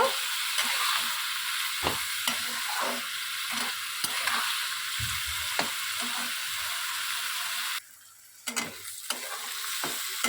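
Salted onions being stirred and fried in a pan, bright sizzling broken by frequent scraping stirs, close and steady, with a brief dip in the sizzle near the end.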